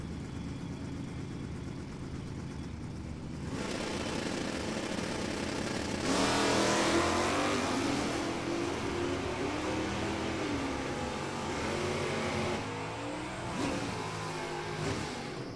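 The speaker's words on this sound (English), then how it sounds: "And Tim Whitehead in the non-convertible 86 Formula Firebird." Drag racing cars, including a 1986 Formula Firebird, accelerate down the strip at an NHRA event, a loud sustained engine roar that swells midway and holds steady, heard at a distance without talk.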